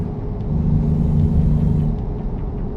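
Truck engine speeding in a driving simulator game played through a real Volvo S60R car interior: a steady, loud low rumble with a sustained droning tone that holds, then eases slightly.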